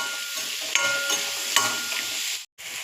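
Green chilies with salt frying in an oiled pan for a dhaba-style egg masala curry, giving a steady close sizzle broken by a couple of stirring scrapes and a brief cut near the end.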